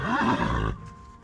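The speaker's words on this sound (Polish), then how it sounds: "cały czas nam rży do źrebaka, bo się stresuje" A stressed mare neighs to her foal in one loud, close whinny lasting under a second, followed by quiet.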